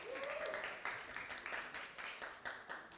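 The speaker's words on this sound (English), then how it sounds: "So another round of applause for Gordon." Applause from a modest crowd at a latte art championship heat, steady and fairly quiet clapping with scattered sharper claps, heard from a little distance.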